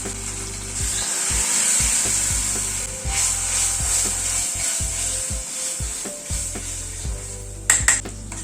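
Cashew paste masala cooking down in a pan, a continuous soft sizzle broken by regular scraping strokes of a spatula and a few sharp clinks against the pan near the end.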